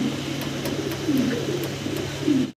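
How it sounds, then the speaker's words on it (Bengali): Running pigeons coo nearby in low, rolling phrases that swell and fade over a few seconds, with faint light clicks in the background. "ভাই এটা রানিং কবুতর"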